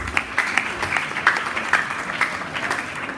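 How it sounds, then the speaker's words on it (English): Applause from the audience at a state government awards ceremony for an academic quiz competition, with scattered sharp claps over a continuous patter that stays fairly even throughout. "Please a hand of applause."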